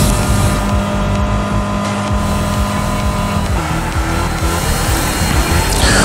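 Rocket cars roaring in Fortnite Rocket Racing while turbo boost is used, loud continuous engine whine with shifting pitch and tire squeals, dense and close throughout.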